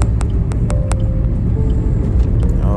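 A car drives slowly through fog on the new Patna–Buxar four-lane road, its steady low road rumble heard from inside with a few sharp ticking clicks early on.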